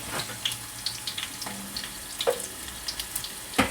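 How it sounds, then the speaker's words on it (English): Beef and potato sambusas frying in hot oil, giving a steady soft sizzle and bubbling with scattered small pops and crackles, close and moderately quiet, no talking. "I am starting to fry the sambusas, and you just drop them in hot oil and you let them do their thing"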